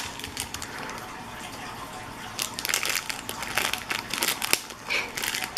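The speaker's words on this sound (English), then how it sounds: "Percy eats plastic." A pet named Percy chewing and crinkling plastic nearby, irregular crackling crunches that come in uneven bursts and grow busier in the second half.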